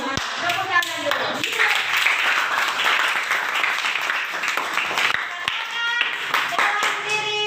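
A classroom of children claps hands together in a loud, sustained burst of dense, overlapping claps that fills the room, with young voices calling out over the clapping.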